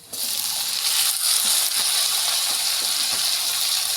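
Constant hissing sizzle of chopped young radish and potato frying in hot oil with turmeric and cumin, close and loud throughout, with a few faint clicks of a utensil.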